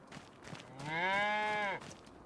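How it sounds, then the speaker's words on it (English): A calf moos once in a weaning barn for Angus cattle in Farming Simulator 25, a single clear drawn-out bellow against faint background sound. "We have 23 cattle in here, or, you know, calves."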